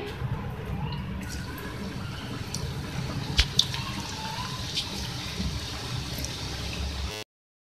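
Diamond-shaped shakarpara dough pieces fry in hot oil, a steady close crackling sizzle with a few sharper pops, running continuously without talk before cutting off.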